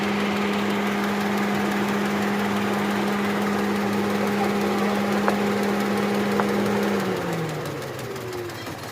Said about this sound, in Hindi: ये देख रहे हैं इंजन कैसे इसका वाइब्रेट कर रहा है।